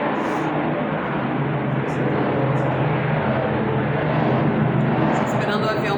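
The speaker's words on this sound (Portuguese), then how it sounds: "Tem que esperar um avião passar." Broad, steady roar of an airplane passing overhead, loud and continuous, with a voice faintly present beneath the drone.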